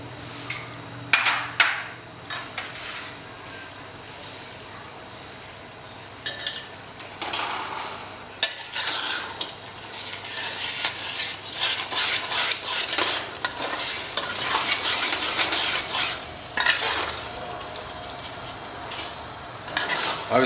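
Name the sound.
stirring and frying tomato masala for dhaba chicken curry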